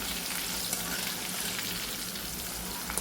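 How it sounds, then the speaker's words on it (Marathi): Banana wafers fry in hot oil over a low flame, giving a steady, dense sizzle with small bubbling crackles that hold evenly for the whole stretch, close up and with no voices. "आणि आता मी गॅस कमी केलेला आहे कमी गॅसवरच फ्राय करायचे आहेत आपल्याला"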